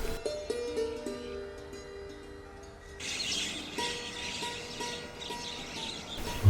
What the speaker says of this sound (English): you wake up in the morning by listening to musical notes from the colorful birds